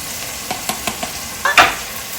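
Ginger garlic paste hits hot oil in a pan with a sharp sizzle. It is stirred in a few quick scraping strokes, then bursts into a louder hiss, close and with no voices.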